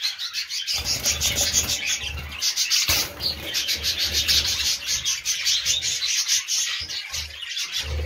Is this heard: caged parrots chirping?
yes